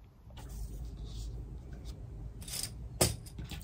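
Scissors cutting fabric quilting wadding for a sashiko coaster, a few soft crisp snips near the end with one sharper cut, fairly close against a low background hum.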